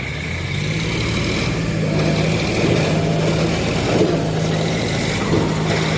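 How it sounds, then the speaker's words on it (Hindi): Two tractors, a Sonalika 742 and a John Deere 5036, strain under heavy load to pull a stuck trolley, their engines droning loudly and steadily with a low rumble and occasional surges in effort throughout. "खतरनाक पावर लगा रहे हैं दोनों ट्रैक्टर, पत्ती लगा रहे हैं अब ट्राली की भाई"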